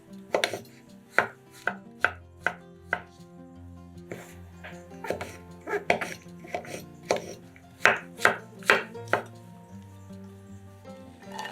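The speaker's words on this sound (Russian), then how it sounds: "Шампиньоны моем и нарезаем кубиками." Button mushrooms being diced with a knife on a board: a run of sharp, close chopping taps in quick irregular bursts, with a faint low hum underneath and no talking.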